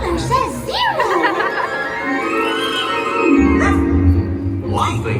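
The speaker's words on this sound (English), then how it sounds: "Hey, look, a dog. It's a ghost dog." A ghost dog barks and yips in a Disney Halloween fireworks show at Magic Kingdom, loud and near, with whimpering tones mixed with a voice speaking.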